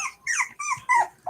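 A Cavalier puppy makes soft, close growls and whimpering yips in several short bursts, fairly quiet, with no talking.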